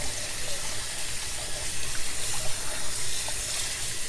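Tap water runs steadily into a sink while a grouper head is rinsed, a continuous close splashing gush with no talk.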